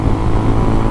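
Motorcycle exhaust while riding on a Florida road, a loud, close, continuous low engine drone that holds steady for under a second.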